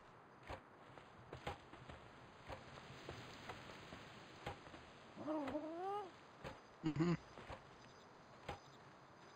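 A cat creature in the Palworld video game gives two faint, short meows, heard over quiet background ambience and soft footstep-like taps.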